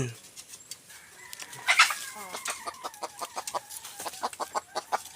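Mixed-blood wild junglefowl (labuyo) rooster near houses giving a series of short, rhythmic clucks, close and moderately loud, with other birds faintly around.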